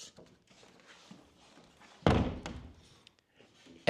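A door slams shut once with a loud, close thud partway through, set against quiet room sounds and faint movement before and after.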